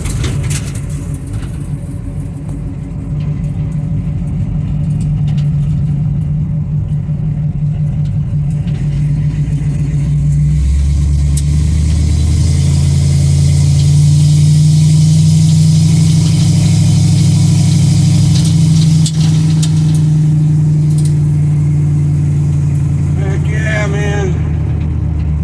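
An old 1955 car's engine runs while driving, a loud low steady drone that rises and shifts in pitch partway through as it pulls along a road, with road rumble throughout and a voice talking over it near the end.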